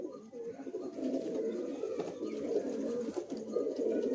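Madrasi pigeons, a breed kept for long flying, coo continuously in low, throaty, overlapping phrases nearby, moderately loud against faint background noise.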